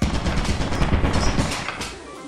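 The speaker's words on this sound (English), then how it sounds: "I got shot." Gunfire in the video game Lethal Company: a rapid, dense burst of shots, loud and close, rattling without a break for about two seconds.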